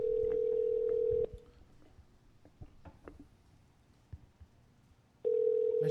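A telephone line tone sounds steadily, cuts off into a quiet stretch of faint clicks and dialing taps, then the tone returns, as someone places a prank call.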